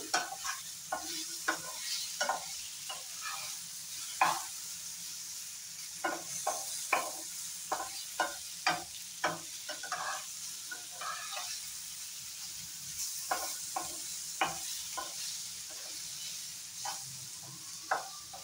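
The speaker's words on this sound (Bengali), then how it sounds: "আলু আর মূলাটা প্রায় ভাজা ভাজা হয়ে গেছে।" Potato and radish pieces fry in a hot pan for mooli kadhi, a continuous soft sizzle broken by frequent scraping stirs, close and without speech.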